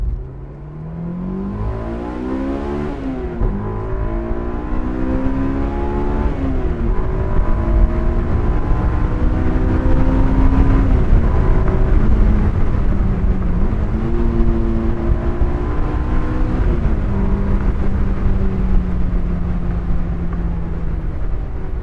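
An AP1 Honda S2000's engine revs hard toward 9,000 RPM while driving, loud and close, its pitch climbing through several gear pulls with brief dips at each shift.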